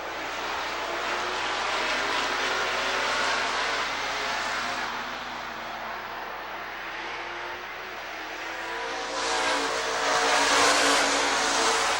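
Stock cars race around Rockford Speedway, a continuous roar of engines from a distance that swells and fades as the pack passes, with no talk over it.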